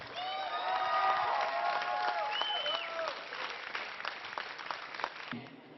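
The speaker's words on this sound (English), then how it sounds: "let's all give them one more hand" Audience applause and cheering fill a live esports grand final arena at BlizzCon 2010, a sustained, loud crowd roar that gradually thins toward the end.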